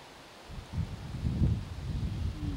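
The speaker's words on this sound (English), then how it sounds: "Got a real windy day going on here right now." Wind gusts on a very windy day at a lakeside point with birch trees, a steady rushing roar buffeting the microphone in low rumbling surges.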